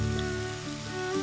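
Water poured into a pan of frying spices and tomatoes for Amritsari urad dal, giving a brief, close, steady hissing sizzle.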